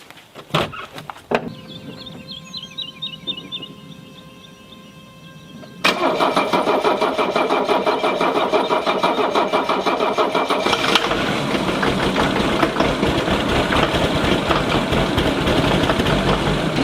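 A Mercedes-Benz W126 with a fault being tested after a sealant treatment cranks roughly for several seconds when cold, then catches and settles into a loud, steady idle that shifts in tone partway through.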